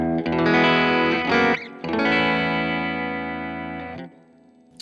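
Electric guitar run through a BOSS IR-2 loader using a twin amp impulse response plays two loud chords, the first ringing and briefly cut off, the second sustaining and slowly decaying. No voice is present.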